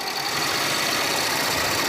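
A Harley-Davidson WL 750 engine from a former police motorcycle idles in a steady, dense rumble, close and loud and unbroken for the whole stretch, with no voices.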